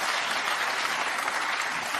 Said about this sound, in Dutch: Geef hem applaus, dames en heren.